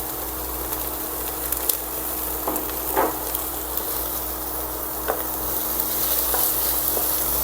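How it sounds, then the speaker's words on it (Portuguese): Onion and minced garlic sauté in a pan for a healthy paella, a continuous close sizzle with a few light stirring taps and scrapes. "a gente entra com um dentinho de alho, bem picadinho, para refogar também"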